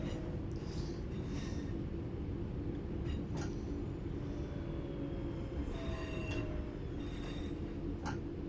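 Freightliner class 66 locomotive hauling TEA tankers in Train Sim World 3, a steady low rumble of rolling wagons with intermittent high wheel squeals and clanks throughout, fairly distant and constant.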